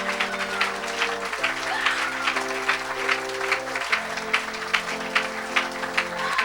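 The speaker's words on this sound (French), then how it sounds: "Somebody clap for Jesus Christ." A church congregation claps for Jesus Christ at a French-language evangelical service. The clapping is steady and rhythmic, with sustained organ or keyboard chords underneath and faint voices in the mix.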